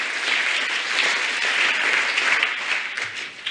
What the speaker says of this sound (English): Give yourself a clap, please.